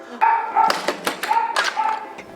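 Several dogs bark in a Humane Society shelter adoption area, a series of loud, close yips and barks in quick bursts that echo off the kennels.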